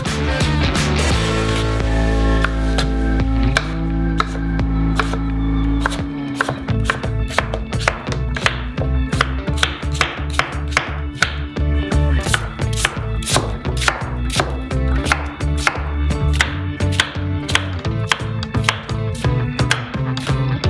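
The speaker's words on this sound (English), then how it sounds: "Cut the fruit into cubes." A knife chops peach flesh into cubes on a board at a street food stall, with rapid, steady knocks running throughout the clip and no talking.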